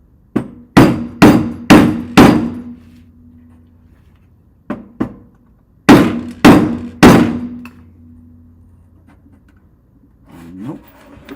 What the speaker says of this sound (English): Same again. Hammer time